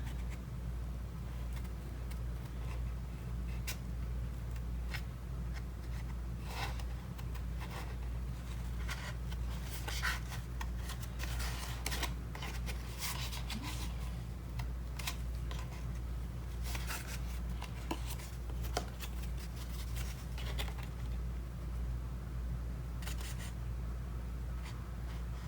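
Scissors snip quietly around a leaf shape in patterned paper for a mini album, soft irregular cutting and paper rustles over a low steady hum.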